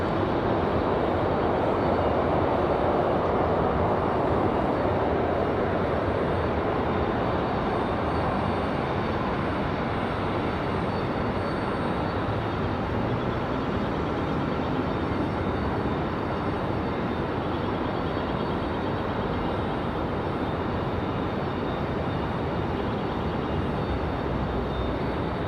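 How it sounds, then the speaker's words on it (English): An Air France Boeing 787 Dreamliner departs from Raleigh-Durham International Airport, a loud, sustained jet engine roar that holds steady and fills the entire stretch without any voices. "Enjoy the Dreamliner departure."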